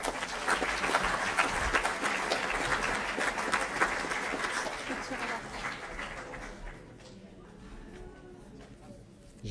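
A crowd applauds at a sports champions' awards evening, dense clapping loud at first and gradually thinning and fading toward the end, with voices mixed in.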